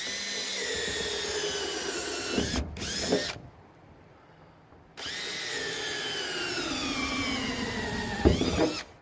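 A power drill bores holes through the plastic of an IBC tote tank, its whining motor running loud and steady, dropping out for a quiet pause mid-way, then starting again with a rising pitch toward the end.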